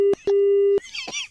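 Phone busy tone after a call is hung up: two loud steady beeps, one short and one longer, then the line cuts off and a brief burst of other sound follows.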